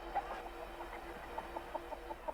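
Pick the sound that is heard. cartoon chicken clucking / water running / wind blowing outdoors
cartoon chicken clucking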